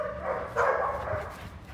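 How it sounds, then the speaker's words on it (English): A hound lab mix dog at an animal shelter gives a short bark or yelp, close and moderately loud, over faint background noise. "He is a hound lab mix."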